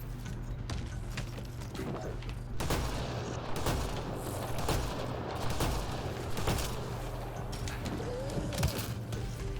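A shotgun fires repeatedly in the sci-fi game Mass Effect: Andromeda, with sharp, punchy blasts at irregular intervals over a constant bed of ambient game noise.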